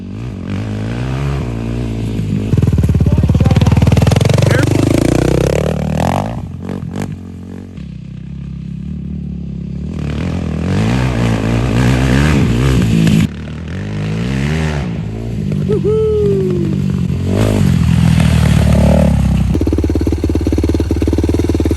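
A Yamaha YFZ450 quad's engine revs and idles close by, rising in loud bursts and dropping back, with short gaps and mechanical clatter between the pulls.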